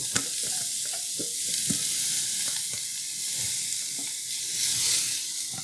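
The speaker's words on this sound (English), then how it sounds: "we're going to saute these until it's softened" Chopped vegetables sauté in olive oil in a pan for spaghetti meat sauce, giving a steady close sizzle broken by scattered clicks and scrapes of stirring, with no talking.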